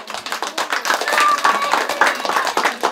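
An audience at a lively neighborhood show in Nuevo Chimbote claps their hands together in a dense, steady burst, close and loud, with some voices mixed in.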